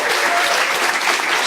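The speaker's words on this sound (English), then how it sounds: "Please also give a warm applause to our one and only IJ4U program manager," Conference audience applauding a program manager, a steady dense wash of many hands clapping, loud and close, with no talk over it.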